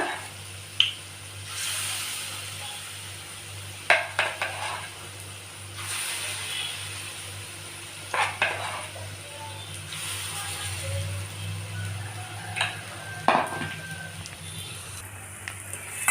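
Pitha frying in hot oil in a wok gives a soft, continuous sizzle and hiss, with occasional louder spatters and pops breaking through, while someone talks calmly over it.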